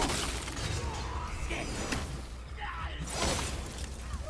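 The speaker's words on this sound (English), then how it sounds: "I will never get tired of shattering things with this." God of War weapon strikes shatter objects, crackling bursts of breaking debris with whooshes layered over dense game ambience, and a voice talks through it.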